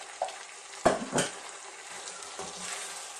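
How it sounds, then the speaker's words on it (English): Sliced white mushrooms and zucchini fry quietly in a pan while being stirred, with a few sharp utensil scrapes and knocks over a soft, steady sizzle. "Now, we're going to give this a nice stir."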